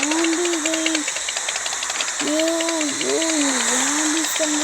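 A motorbike engine in an Indian driving video game drones and revs in rising and falling pitch sweeps, steady and close, over a constant electronic hum of game audio.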